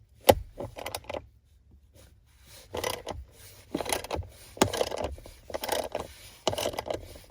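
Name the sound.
removing bolts holding Tesla Model 3 display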